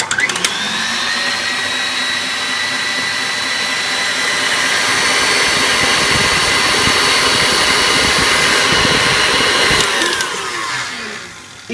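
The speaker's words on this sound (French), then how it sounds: "il faut remettre simplement votre robot à vitesse maximum pour finir de serrer votre chantilly." A kitchen stand mixer running at maximum speed to whip cream into chantilly, a loud steady motorized whir that holds for about ten seconds before winding down near the end.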